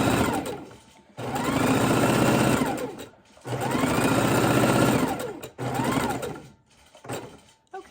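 A sewing machine stitches raw-edge appliqué in three loud, close bursts of rapid whirring, separated by short pauses.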